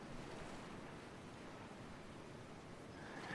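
Ocean surf in the Stranded Deep survival game, a steady broadband wash of waves rolling in without pause, loud and close, with a windy hiss over it and no voices.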